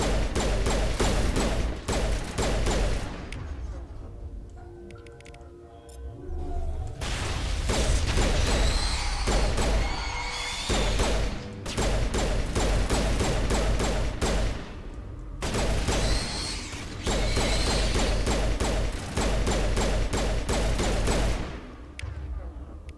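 A machine gun fires in a video game, loud bursts of rapid shots separated by brief pauses, with mechanical clatter between volleys and no speech.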